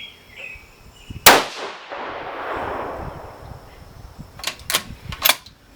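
A single cold-bore rifle shot from a 6mm ARC firing a 108-grain ELD-M match load cracks sharply and close. A long fading rumble follows, and then a few quieter metallic clicks of handling.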